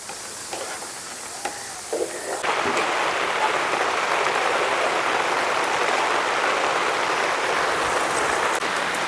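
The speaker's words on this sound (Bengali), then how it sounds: "এখানে হালুয়াটা রান্না করতে করতে খুবই জোরে বৃষ্টি চলে এসেছে" Heavy rain pours down in a dense, steady hiss beside an outdoor cooking spot where mango semolina halwa is being made, beginning lighter with a few knocks and then swelling abruptly into a loud, continuous downpour.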